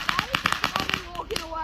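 Fireworks on a holiday weekend crackle and pop in a rapid, irregular series of sharp bursts, fairly close, with people talking and exclaiming over them.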